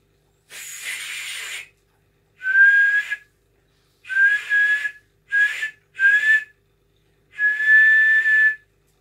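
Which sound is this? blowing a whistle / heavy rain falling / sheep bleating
blowing a whistle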